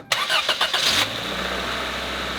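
A cheap old Toyota Celica cranks for about a second with a rapid starter whir, then catches and settles into a steady, close idle with no talk.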